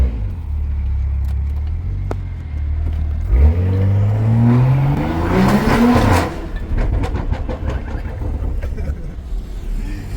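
A modified car exhaust revs loudly out on a street, starting from a low idle rumble, then climbing in a sharp rising rev before dropping off, with voices talking nearby.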